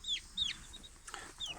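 Young chicken, a chick about two and a half weeks old, giving several short high-pitched peeping clucks spaced irregularly, close by and fairly soft, with no talking.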